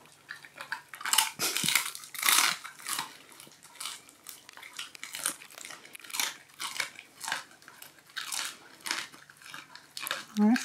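A husky crunches and chews a hard waffle bowl rim in repeated bursts of crisp biting close to the mic, with a person talking in between.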